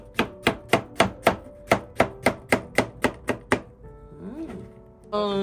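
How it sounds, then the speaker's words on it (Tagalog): Knife chopping soft peeled bottle gourd (upo) on a board in a home kitchen: about a dozen crisp, evenly spaced, close thuds in a steady rhythm, then a brief pause and faint handling noises. "Hiwa-hiwain ulit."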